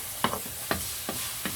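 An egg cooks in a frying pan for a breakfast sandwich, with a soft constant sizzle under four separate scraping strokes of a utensil, spaced about half a second apart.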